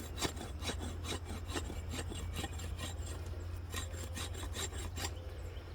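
A Condor Moonshiner knife blade scraping wood, a rhythmic series of quick rasping strokes, close and fairly quiet, repeated steadily with a brief pause near the end.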